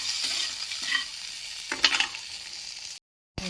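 Fried potato pieces in a pan give a soft, steady sizzle with a few brief stirring scrapes, cut by a short gap of silence near the end.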